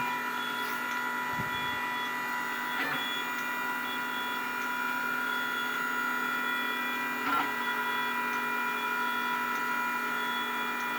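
A 3D concrete printer's extruder runs with a steady mechanical drone and tonal hum, a continuous loud machine sound broken only by a few faint knocks, and no one talks over it.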